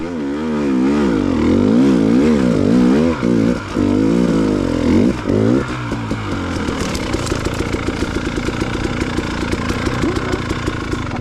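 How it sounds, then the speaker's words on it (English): A vehicle grinds up a steep hill climb, engine loud and strained with rear tires spinning and the revs wavering at first, then the note steadies into a continuous rough engine drone as the tires gain traction. "You can just hear the rear tires spinning in that first third, and then you can get traction coming up this part."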